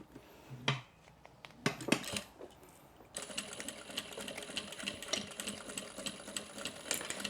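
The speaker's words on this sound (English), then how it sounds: "fold it over, and then I'm just going to stitch down this edge." Sewing machine stitching down the folded edge of a D-ring connector tab on a tote-crossbody bag; a few short bursts of stitching near the start, then a steady continuous whirring run of needle clatter through the rest.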